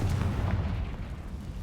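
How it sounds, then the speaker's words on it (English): A Confringo blasting spell going off in the game Hogwarts Legacy, a short deep booming burst that rumbles heavily at first and then fades away within about a second. "Confringo."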